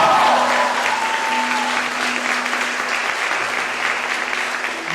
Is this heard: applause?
yes